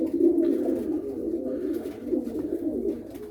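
Several pigeons coo continuously up close, a soft throaty warbling that overlaps without pause.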